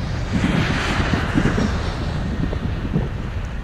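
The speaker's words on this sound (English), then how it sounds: "This unique whooshing and thudding sound is created by the powerful engine and the air flowing over the plane's surface." Steady, broad roar of an airplane jet engine at takeoff with wind-like whooshing and low thuds throughout, loud and continuous with no voices.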